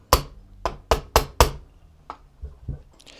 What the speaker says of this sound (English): You can hammer it the rest of the way down.